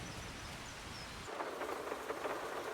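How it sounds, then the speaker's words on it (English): Steady heavy rain hisses throughout, and a low rumble of thunder drops away partway through as the downpour continues. "The rain is even heavier. It's actually turning into a thunderstorm now."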